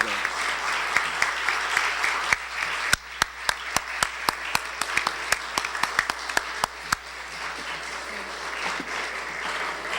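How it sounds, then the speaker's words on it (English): An audience at a mayoral and school committee candidates forum applauds the candidates, dense sustained clapping with sharp individual claps over a steady crowd wash lasting the full stretch. "Why don't we give them a round of applause for their well done?"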